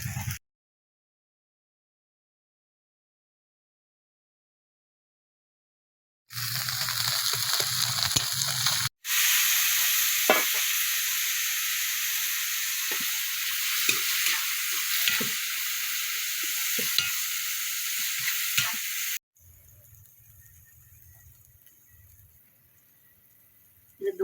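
Food sizzling loudly in hot oil with turmeric in a home kitchen, a dense continuous hiss broken by stirring scrapes, starting after a silent gap and then dropping to a quieter low rumble near the end.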